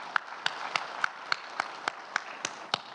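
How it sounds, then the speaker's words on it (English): Sparse, evenly spaced claps ring out for volunteers at a sustainability dialogue event, about ten sharp hand claps in a steady rhythm over a quiet room, more like a few people clapping than a full audience. "I think we should give a good round of applause for the volunteers"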